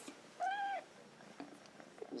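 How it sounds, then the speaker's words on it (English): A runt mixed-breed house cat in a new home lets out a single clear meow near the start, followed by faint quiet rustling in an otherwise hushed room. "Yeah, it's a good kitty."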